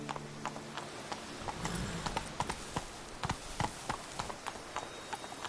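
Roach, a horse in The Witcher 3 video game, gallops with steady clip-clop hoofbeats in a quick, even rhythm. The steps sound close and clear over a low ambient bed, with no voices.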